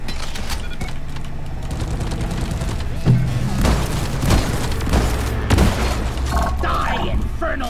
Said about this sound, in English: having these turrets is that they'll actually shoot at the arms for me